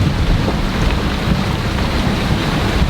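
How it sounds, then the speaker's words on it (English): A thunderstorm at sea roars without a break, with big winds and heavy rain making a loud, dense rumble that fills the whole stretch. No one speaks. "major storm. Big winds"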